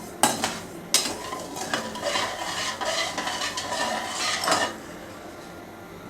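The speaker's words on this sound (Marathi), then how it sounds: "आणि ह्याला असं ढवळत राहा." A spoon stirs sugar syrup in a pan over a raised flame while it cooks down for shev ladoo, scraping and clinking steadily at close range, with a short pause early on and the scraping fading out near the end.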